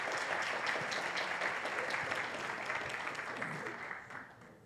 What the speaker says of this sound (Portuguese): Nosso aplauso a todos os participantes da nossa roda de conversa.